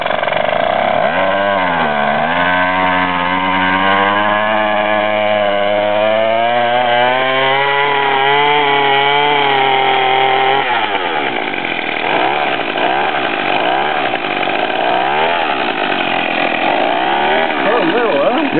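A two-stroke weed whacker engine fitted to a motorized bicycle runs loud and close, its buzzing pitch rising and falling as the throttle changes, then settling into a steadier, rougher drone; voices talk over it.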